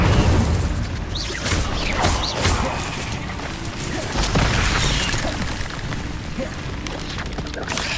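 The Incendio fire spell is cast in Hogwarts Legacy, a loud, dense whoosh of flame and crackling bursts with booming combat effects, continuous over the game's background sound.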